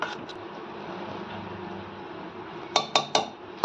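A spoon stirs cake batter with milk in a metal pot, a soft continuous scraping that ends in three or four quick clinks against the pot's rim.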